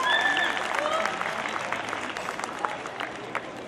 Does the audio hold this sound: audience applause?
yes